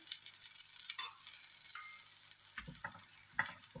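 Akki roti, a rice flatbread, crisps on a pan with a faint sizzle, and soft scraping and light taps come in toward the end.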